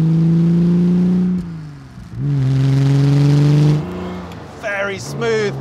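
A 1961 Aston Martin DB4 GT Zagato engine revs up in smooth rising pulls, dropping between gear changes, loud and close, with a voice briefly heard near the end.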